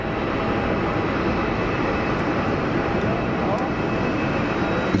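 An EasyJet Switzerland airliner arriving at Geneva from London Gatwick, a steady broad jet roar holding at constant loudness throughout with a faint high whine on top.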